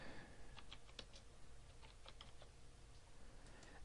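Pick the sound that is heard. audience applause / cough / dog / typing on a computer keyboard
typing on a computer keyboard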